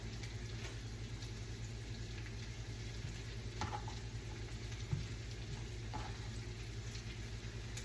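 Potatoes for home fries sizzle steadily in a pan, a soft, even frying hiss with a few faint clicks and a low hum, heard alone without talk.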